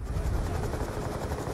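A stealth chopper helicopter from Black Ops 2 roars past, a loud, pulsing rotor throb with heavy low rumble sustained through the brief moment.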